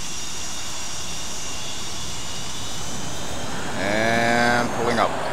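EA-6B Prowler jet engine spooling up to full throttle in a flight simulator, a steady loud roar joined near the end by a rising whine, with a voice talking over it.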